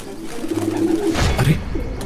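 A pigeon, fallen on the ground with kite string tangled around its feet, coos close by, low throaty calls with a brief rustling flutter partway through.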